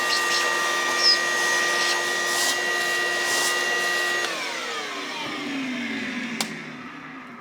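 A vacuum sucks up metal shavings from a freshly cut engine valve seat, its steady motor whine holding close and loud before the pitch sags and winds down partway through.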